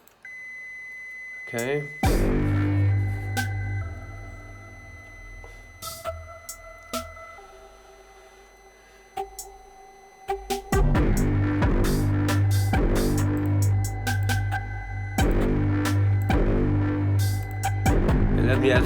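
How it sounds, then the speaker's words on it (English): Synthesizer feedback from a VCV Rack patch: electronic tones and beeps that hold, step and repeat, loud and close, thinning midway before a denser layered pattern returns; a voice speaks briefly. "It starts with this feedback sound."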